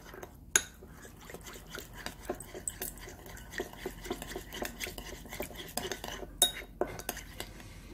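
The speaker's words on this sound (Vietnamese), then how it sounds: "Khuấy lên." A utensil whisks egg mixture with water for a Japanese rolled omelette, giving rapid, steady clicking and tapping against a bowl, close but quiet, with two sharper knocks and no voices.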